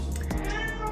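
A domestic cat meows once, close and moderately loud, a short tonal call heard alone indoors over a low background hum.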